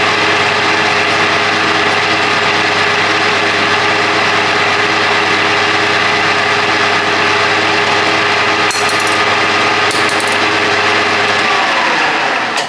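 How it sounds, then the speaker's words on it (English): A drill runs steadily while a big thick drill bit bores a starter hole in a Shovelhead motorcycle part, a continuous whirring hum with a few brief higher scrapes near the end, close and loud, with no talk. "So big thick drill bit just to start the hole."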